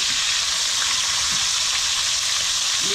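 Steady crackling sizzle of spearfished fish frying in hot oil in the Philippines, dense and continuous, with occasional louder pops.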